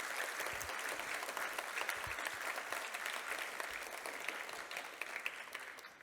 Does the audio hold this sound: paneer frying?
no